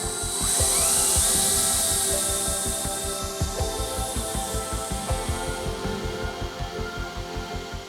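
A cordless battery drill steadily spins the accessory box of a Spitfire FR XIV under restoration, a sustained whirring drone with rhythmic pulsing clicks throughout, close and fairly loud.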